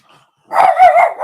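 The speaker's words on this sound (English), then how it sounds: "excuse the noise, dog's getting a bit hairy." A dog barks and yips close by, a short burst of sharp, loud barks after a moment of near silence.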